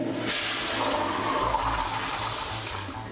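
A dual-flush water-saving toilet flushes with a sudden whoosh followed by steady rushing, gurgling water close by, loud and continuous before beginning to ease off, with no voices.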